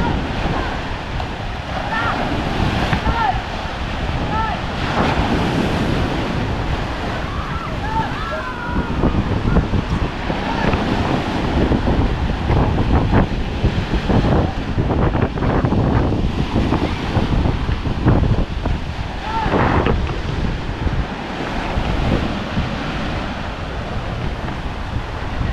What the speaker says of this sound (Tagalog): baka mahampas ka ng alon, matumba ka dyan